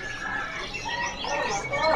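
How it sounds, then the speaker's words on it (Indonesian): Dark and light canaries chirp at a bird seller's, a busy stream of faint to moderate twittering and short whistled calls mixed with background chatter. "Yang suka burung kenari juga masih ready ya. Nah, ini ada kenari gelap sama kenari cerah."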